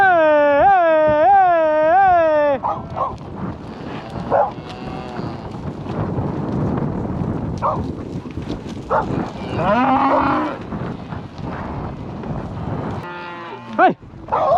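Cattle on a cattle drive moo loudly and nearby, one long wavering low call at the start followed by more lowing and bellows from the herd, with brief shouts from a handler.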